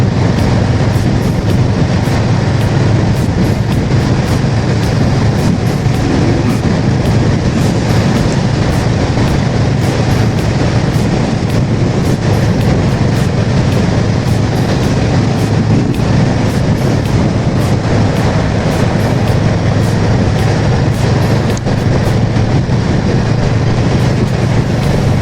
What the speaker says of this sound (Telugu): రైల్వే గేట్ పాసింగ్లో ఉంది.